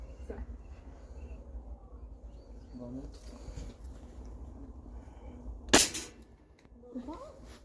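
One sharp, loud rifle crack from a park shooting gallery rings out near the end amid quiet background murmurs and faint bird calls.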